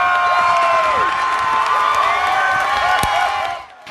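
A large crowd of thousands cheers, whoops and applauds at a public marriage proposal in London, a dense, sustained roar with high shouts that fades slightly at the end.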